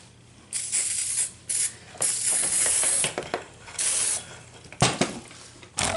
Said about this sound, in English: Option 2, this is where you need the penetrant.